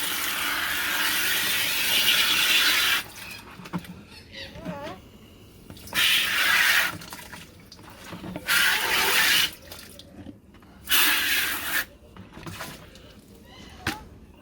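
A hose flushes water out of a gold recovery pan holding material from processed IC chips, coming in several loud rushing bursts separated by quieter gaps, with some talk around it.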